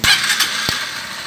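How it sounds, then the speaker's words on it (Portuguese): A motorcycle being started after the ignition is switched on: a few sharp starter cranks and clicks, then the engine catches briefly, close and fairly loud in a workshop setting. "Agora vamos dar partida na motocicleta."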